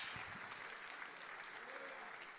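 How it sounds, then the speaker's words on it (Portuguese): A church congregation applauding after a Portuguese-language sermon, a steady, moderately distant wash of clapping with faint voices beneath it throughout. "Quem crê nesta palavra, aplauda o nome do Senhor Jesus."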